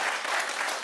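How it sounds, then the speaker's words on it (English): Audience applause at an evening event, a dense burst of many hands clapping at once, loud and close throughout the short moment with no voices on top. "Yes, you can give that a round of applause."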